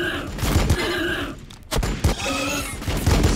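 Gunfire rattles in Warhammer 40k Battle Sector, bursts of rapid shots and thuds from a battle, loud and repeated, with brief game voice lines mixed in.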